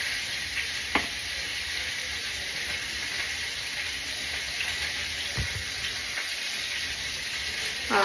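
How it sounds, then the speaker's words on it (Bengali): Fish fries in oil in a pan on a gas stove, a continuous loud hissing sizzle with a few sharp pops and clicks, close up and without speech. "এদিকে আমার মাছ ভাজা হতে রয়েছে"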